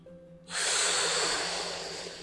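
After a quiet moment, one long, deep breath is drawn in close to the microphone, a loud airy inhale during a breathing exercise for COPD.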